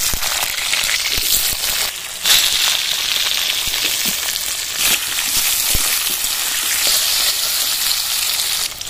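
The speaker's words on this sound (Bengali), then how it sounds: "আমি আলুটা আর পেঁয়াজটা খুব ভালো করে ভেজে নেব।" Cut potatoes fry in mustard oil with cumin, dried chilli and bay leaf, a dense continuous sizzle with faint crackles and a few soft stirring knocks.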